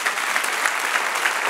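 Congregation applause during a church sermon, a loud, dense and continuous burst of clapping throughout.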